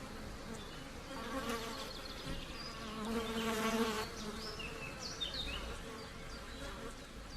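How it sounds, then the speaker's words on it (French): Several flies buzz close by around a golden eagle nest, their whining drones rising and fading as they circle, with faint outdoor ambience beneath. "L'aiglon est harcelé par les mouches qui perturbent aussi le sommeil de la chouette."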